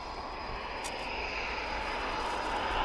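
Eurofighter Typhoon jet at RAF Coningsby, a steady, broad engine roar that grows slowly louder, with no talking.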